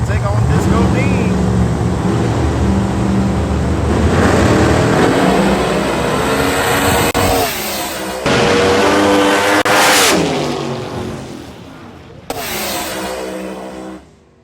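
Pro modified drag race cars launch down the strip at a drag racing event, a loud roaring engine blast that rises and breaks off in bursts, with an announcer talking over it.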